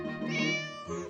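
A cat meows in one long, loud, drawn-out wail that is close by and clear, with a brief second call at the end. The cat is a nuisance animal around a home.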